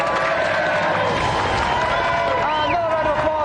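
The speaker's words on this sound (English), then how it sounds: "round of applause for our golden joystick winner" Studio audience applause with some cheering greets the golden joystick winner on a televised games show, a dense, steady wall of clapping.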